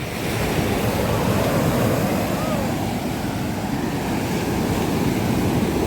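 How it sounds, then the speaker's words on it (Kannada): Ocean waves crash on Panambur beach as a continuous, loud roar of surf with wind buffeting the microphone, steady throughout without a break. "ಏನಪ್ಪ ಅಲೆಗಳ ರಭಸ."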